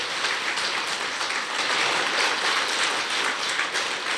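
Listeners at a Padma Purana religious discourse break into applause, a dense, even patter of many hands clapping continuously without pause, loud and close.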